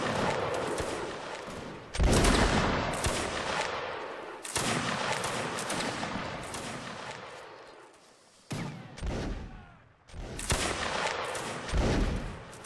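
Massed musket volleys crack out in a Napoleonic Wars line-battle video game, with loud broadband bursts around two, four-and-a-half, eight-and-a-half, ten and twelve seconds over a continuous rattle of scattered gunfire; no talk.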